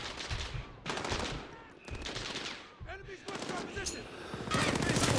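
Shotgun blasts in Call of Duty: Modern Warfare, several sharp bursts in a loose irregular rhythm, loud and close, with talk faintly underneath.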